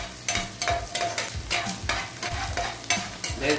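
Garlic frying in melting butter, a steady sizzle broken by repeated scraping stirs in a rhythmic pattern, close and fairly loud with no talking.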